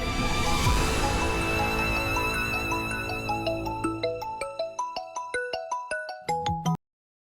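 A phone rings with an incoming call as a melodic ringtone plays in a rhythmic run of short pulsing notes. It stays loud and close, fades slightly over several seconds, then cuts off abruptly.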